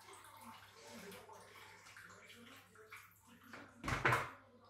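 Water empties out of a plastic bag while winter okra is prepared in a kitchen, a faint gurgle under soft talk that ends in a louder splashing pour.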